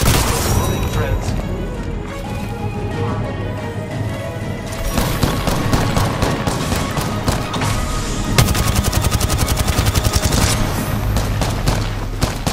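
Heavy automatic gunfire in the Apex Legends battle royale game, sustained rapid bursts with booming impacts, loud and close, a rhythmic stream of shots toward the end, with voices over the action.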